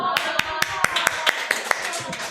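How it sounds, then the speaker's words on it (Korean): A church youth worship congregation claps in a quick, steady rhythm of sharp, distinct claps, close and fairly loud, with a voice speaking underneath. "박수."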